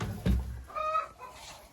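Hens clucking from their nest boxes in a coop, a few short harmonic clucks close by after a dull thump, with low rustling around them.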